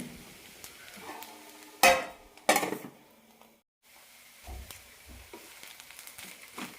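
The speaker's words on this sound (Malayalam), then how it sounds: "നന്നായി മിക്സ് ചെയ്യാം" Rice upma is stirred in a pan, with two sharp metallic scrapes and clanks of a utensil against the pan, then softer stirring and light tapping over a quiet background hiss.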